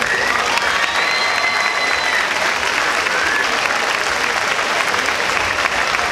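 A crowd at an award ceremony for decorated streets during the Festa Major de Sants gives loud, sustained applause, with dense clapping and a few faint cheers throughout.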